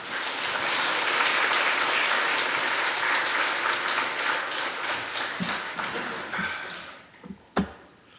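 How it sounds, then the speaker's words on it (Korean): A church congregation applauds to welcome the pastor on the final day of services, a full steady round of clapping that tapers off with a few last isolated claps. "우리 마지막으로 목사님 박수하면서 맞이하겠습니다"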